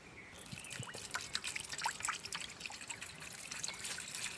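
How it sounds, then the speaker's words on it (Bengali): Water poured over crushed stalks in a bowl while making a cold summer drink, a faint, close trickle with small splashes and drips running steadily under quiet room noise. "এখন এই থেতো করা ডাঁটার মধ্যে দিয়ে দেব জল।"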